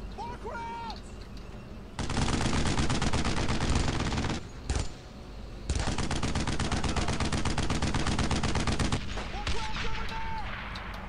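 Sustained machine gun fire in the Brothers in Arms: Road to Hill 30 World War II game, loud dense bursts of rapid shots with a brief pause midway, under shouted soldier voices.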